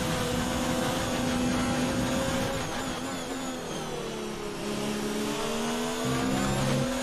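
Formula One race car in the F1 2019 video game, engine screaming loud and close as it accelerates hard, the pitch rising and falling through gear changes on a qualifying lap at Brazil.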